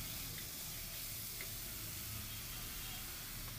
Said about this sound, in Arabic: بشوح في البصل او بخليه يدبل خالص كده